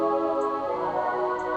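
Synth chords made in Serum and widened in stereo with Echo Boy, a dense sustained pad-like wash holding steady throughout, loud and alone.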